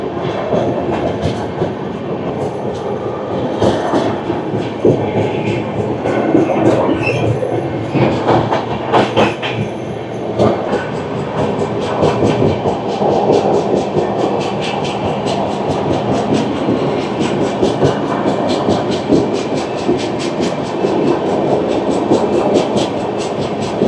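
Inside a Vistadome coach of the NJP to Howrah Shatabdi Express, the train runs with a loud, continuous rumble and rattling rhythmic wheel clatter over the rails, steady throughout.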